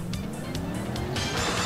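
In Sonic & Sega All-Stars Racing, a game car drifts with a continuous engine drone, and short, whooshing bursts of noise ride over the hum.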